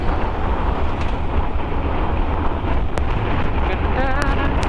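Steady, loud wind rushing across a microphone, a constant broadband roar throughout with faint traffic-like rumble underneath.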